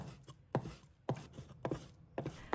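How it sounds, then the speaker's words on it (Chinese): A knife chops fresh pork with fat and lean layers into small pieces on a board, giving four sharp, close strikes spaced about half a second apart with quiet scraping between them. "先把它切成均匀薄片， 再切成小粒"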